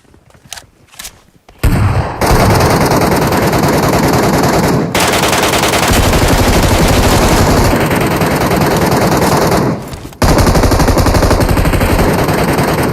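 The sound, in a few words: gunfire in the Metro Royale video game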